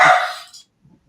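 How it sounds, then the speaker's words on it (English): A dog gives one loud, close bark that trails off quickly, followed by near silence. "That's my dog barking."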